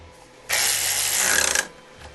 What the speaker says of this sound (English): Then get my Timu ratchet.